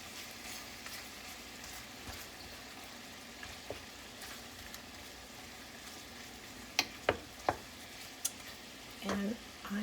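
Shrimp scampi sizzles gently in a pan on low heat, a soft continuous crackle with a few sharp clinks of utensils near the end and a brief voice at the close.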